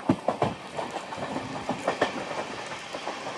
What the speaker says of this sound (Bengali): এই হচ্ছে কলকাতা সাইরাং এক্সপ্রেস, 13125 কলকাতা সাইরাং এক্সপ্রেস